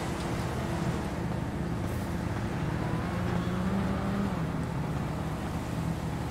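A car from the video game GTA drives up, its engine giving a steady low hum with some tonal whine, continuous and moderately loud, with no talk over it.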